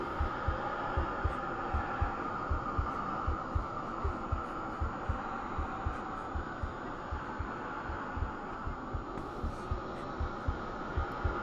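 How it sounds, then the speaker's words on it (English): A slow, steady heartbeat of the Brain of Mensis in the game Bloodborne thumps low and distant under a droning ambient hum, beating evenly throughout. "You can hear the heartbeat of the brain of Menzies off in the distance."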